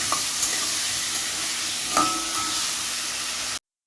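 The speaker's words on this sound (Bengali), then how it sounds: "পুরো লাল করে ভেজে নিতে হবে" Chillies frying in hot oil, a loud continuous crackling sizzle with a brief clatter of a stirring utensil partway through before the sound cuts off.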